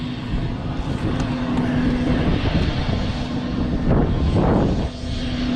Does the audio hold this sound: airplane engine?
yes